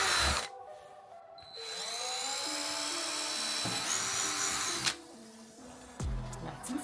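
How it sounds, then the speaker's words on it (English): A power drill whines through two bursts of drilling holes for an Audi A7 front splitter, its pitch rising and steady, with short clicks between runs. "get your drill bit, and let's drill some holes"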